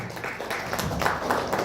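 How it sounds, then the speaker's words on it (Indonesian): An indoor audience applauding, a brief dense burst of many hands clapping at steady volume throughout. "Tepuk tangan lagi buat panjenengan semuanya."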